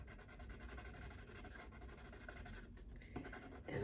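Colored pencils scratch across paper as a fish and water are colored in, a soft continuous scraping of close, quiet strokes with a brief louder tap near the end.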